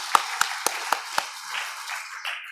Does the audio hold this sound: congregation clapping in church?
yes